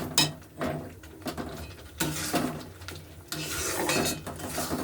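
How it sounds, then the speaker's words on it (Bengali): A utensil scraping and clattering against a wok while ground soybean paste is stirred over low heat, irregular metallic strokes close by with no talk. "এইভাবে আপনারা এটাকে নাড়িয়ে শুকিয়ে নেবেন।"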